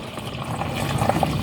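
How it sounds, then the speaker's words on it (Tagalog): Water is poured into a container to make ice candy, giving a close, continuous splashing trickle with small bubbling blips, steady and unbroken for the short stretch. "Pag gumana ni butangan dayog tubig."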